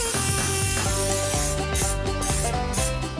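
Aerosol spray paint hisses in repeated short bursts over a taped-up homemade Mortal Kombat costume outdoors, close and loud, with rhythmic sputtering pulses and no talking.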